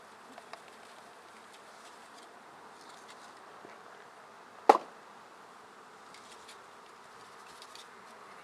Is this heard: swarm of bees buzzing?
yes